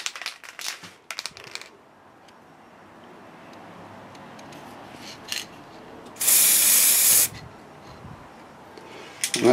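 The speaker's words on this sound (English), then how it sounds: "with spraying you can't govern where it's going to go" Acrylic spray paint hisses from an aerosol can in one loud, steady burst of about a second, with quieter handling knocks and rattles before it, indoors by an open door.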